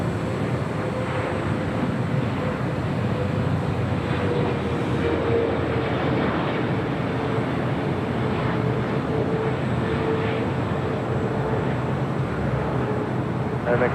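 A Boeing 787 Dreamliner heavy jet departs LAX, its engines a steady, continuous roar with a faint whine, held at an even level throughout, while faint radio chatter may sit beneath it.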